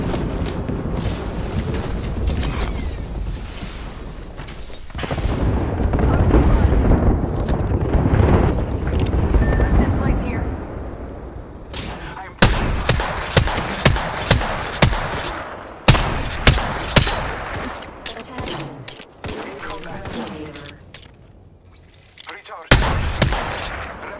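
Heavy artillery blasts and rapid gunfire in the battle game Apex Legends, first as a dense rumbling barrage, then as a series of sharp, loud booming impacts with brief gaps between them.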